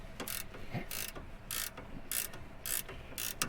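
A ratchet wrench with a 17 mm socket tightens the sway bar bolt on a 1999 Kia Sportage EX, giving about six bright, rasping clicking strokes in an even rhythm, close and clear over a low background rumble.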